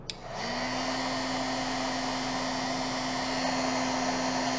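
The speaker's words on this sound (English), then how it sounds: "So now we're going to heat it up." A heat gun switches on with a click and settles into a steady, loud blowing whoosh with a constant motor hum, running alone without any pause.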